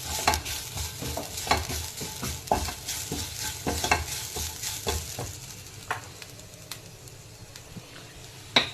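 Turmeric, Kashmiri chilli powder and crushed chilli stirred into a sizzling pan for a horse gram stir-fry, with rhythmic scraping strokes of a spoon over a soft fry that thins out toward the end.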